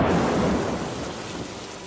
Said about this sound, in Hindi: आज तो बिना किसी वजह के इतनी जोर की बारिश शुरू हो गई।